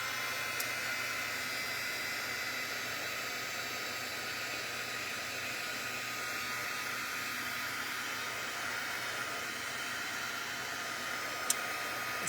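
A heat tool blows hot air onto ink in a steady, even hiss like a hair dryer, continuous and close for the whole stretch, with no talk.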